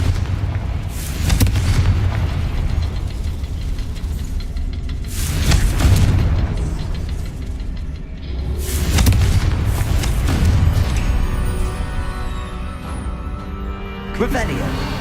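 Fiery Confringo spell blasts in the Hogwarts Legacy video game, several loud booming bursts spaced a few seconds apart over a steady rumbling game backdrop, with voices speaking between them.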